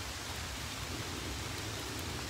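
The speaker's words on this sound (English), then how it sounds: "They don't care that it's raining." Steady rain falling on a pond in Valley Stream State Park, a dense continuous hiss of drops close by, even in loudness throughout with no voices.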